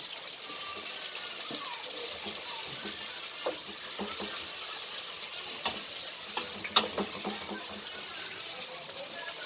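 Mushrooms and onions sizzle softly in a frying pan, with scattered scraping and tapping as they are stirred throughout, steady low frying noise underneath.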